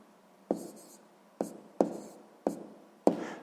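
A pen or pencil writes out a sixth-grade math exercise on paper in five short, separate taps and strokes, each starting sharply and fading, close and quiet with no voices.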